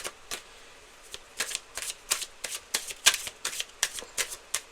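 Tarot cards are shuffled and handled close up, producing a run of crisp, papery riffles and snaps in uneven bursts over a few seconds against a quiet background.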